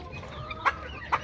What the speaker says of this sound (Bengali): এই যে আমার ফার্মি মোরগটা দেখুন